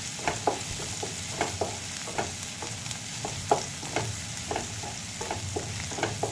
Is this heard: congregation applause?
no